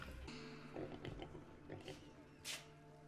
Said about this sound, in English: It's like a pig.